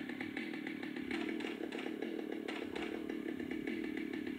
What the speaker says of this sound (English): That's the chainsaw.